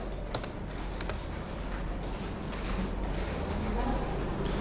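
Code is typed on a computer keyboard in a programming lesson, a run of close, crisp key clicks in quick bursts over a steady background hum.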